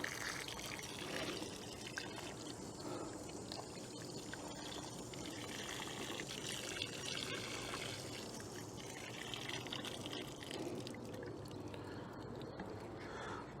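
Water poured steadily from a hose or can onto potato plants in a garden, a continuous close splashing trickle running alone for the whole stretch.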